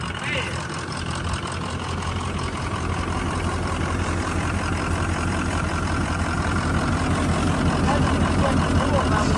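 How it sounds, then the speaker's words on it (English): A free diesel vehicle's overheating engine runs steadily, with a loud low rumble under a constant broad hiss, as if coolant or steam were blowing out. "It's overheating. It's blowing out."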